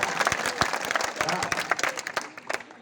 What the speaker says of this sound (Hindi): तो एक और जोरदार ताली बजाएं आप